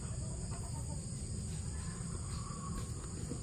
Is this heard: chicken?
yes